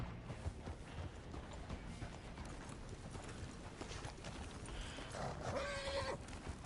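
Horse hooves clip-clopping with a whinny in Red Dead Redemption 2, a steady gait throughout under game ambience, with a neigh rising near the end.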